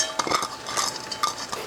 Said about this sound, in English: So we have one of our frozen onions going in, and about a cup's worth of carrots and a cup of celery.